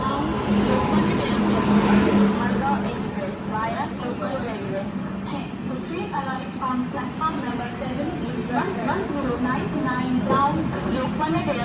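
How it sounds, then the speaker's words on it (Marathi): A passenger train rumbles steadily as it pulls away from a station, with a low engine drone and clattering beneath people talking nearby. "ट्रेन पण निघलेली आहे आमची"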